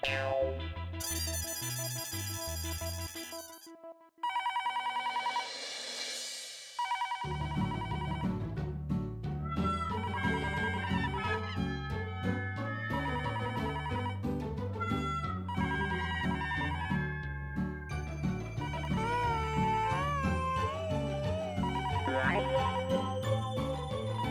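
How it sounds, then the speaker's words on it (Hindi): A landline telephone rings late at night (about half past twelve), its electronic ringtone mixed with dramatic background music that starts partway through and runs steadily to the end. "साढ़े 12 बज रहे हैं, इतनी रात को कौन फोन कर रहा है?"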